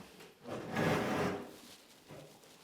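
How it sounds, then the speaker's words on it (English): A door swung shut during a paranormal investigation, giving a soft wooden scrape and thud that swells and fades over about a second, close by, with a smaller knock after it. "Shut this door."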